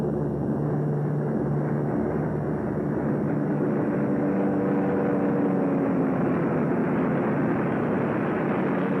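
A steady aircraft engine drone for a bomber making a letdown in a wartime radio drama, a continuous loud hum with no break and no voices.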